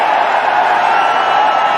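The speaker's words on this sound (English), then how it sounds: "Have a look at the crowd." Loud, unbroken roar of a huge crowd at an India cricket match, thousands of voices cheering and whooping together in a steady, washing din across the whole stadium.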